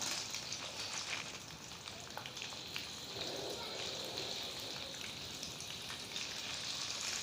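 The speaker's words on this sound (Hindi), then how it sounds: "आलू फ्राई हो रहे हैं।" Potatoes fry in a pan over a low flame, giving a soft, steady sizzle and crackle that runs evenly throughout, close and quiet, without talk.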